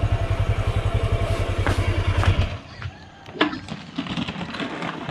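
A motorcycle engine idles close by with a steady, thumping putter for a few seconds, then cuts out, leaving clatter and brief voices in the background.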